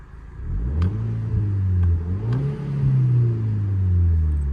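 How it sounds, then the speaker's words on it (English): A 2007 Audi TT Roadster 2.0T FSI convertible engine revs up from idle, rising and falling in pitch, then settles into a loud, steady exhaust drone; close and continuous. "If I put my foot on the accelerator slightly just to give it a rev"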